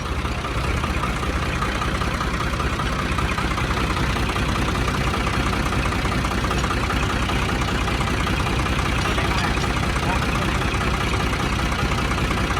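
A farm tractor fitted with a front plow runs at idle, a constant, fairly loud mechanical drone with a low throbbing rumble that continues unbroken throughout, with no voices.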